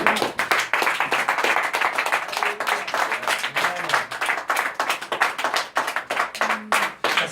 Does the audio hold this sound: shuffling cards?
no